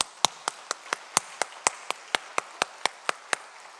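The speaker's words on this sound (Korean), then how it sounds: "우리 하나님께 영광 박수 올려드리겠습니다." Clapping from a church congregation at an Easter service, heard as a steady rhythmic beat of sharp claps at an even tempo, fairly close and clear, with no talk over it.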